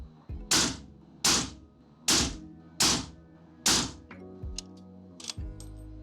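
Five loud, evenly spaced rifle shots from a Sig Cross Trax .308 firing Nosler ammunition with a hot barrel, each a sharp close crack with a short decay, followed by a few fainter clicks and handling clatter.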